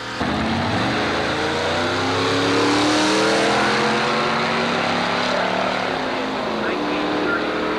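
Model A Ford drag car powered by a small block Chevy engine races at Carlsbad Raceway, its loud engine revving up and pulling hard with rising then sweeping pitch, close and continuous.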